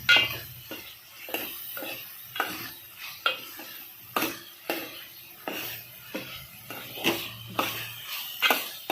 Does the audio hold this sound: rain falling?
no